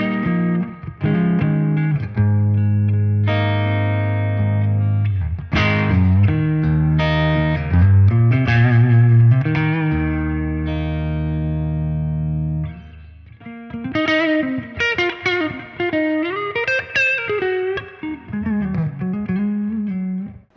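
Electric guitar played through a tube amplifier with a spring-style reverb effect: clean sustained chords ring out with lingering tails, followed by a melodic single-note passage, loud and alone without talk.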